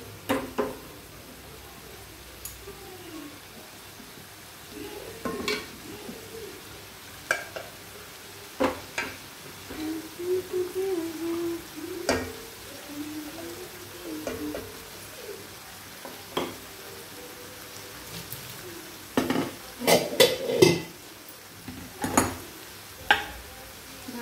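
Vegetables cooking in a pan on a low flame, a soft steady sizzle with occasional stirring scrapes and utensil taps against the pan, fairly close and moderately quiet.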